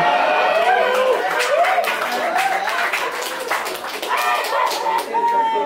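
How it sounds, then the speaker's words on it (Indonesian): Comedy club audience claps and cheers in a steady, dense wash of applause at a stand-up night, with crowd voices mixed in throughout. "Coba tepuk tangan yang Kristen"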